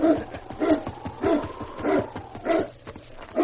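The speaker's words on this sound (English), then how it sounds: "Say, that's a dog team." A sled dog team barks and yips in repeated bursts about every half second, fairly close, with some whimpering between the barks and no talk.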